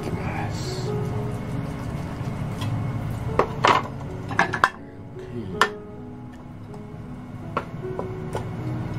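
Knife slicing a raw chicken breast in half on a cutting board, a few sharp taps and clacks of the blade against the board over a steady background hum.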